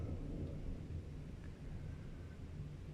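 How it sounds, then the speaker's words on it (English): Low, steady rumble of thunder rolling through a storm, with broadband rain-like hiss layered over it and no distinct crack, continuous and fairly soft throughout. "the wonderful thunder, the power of nature"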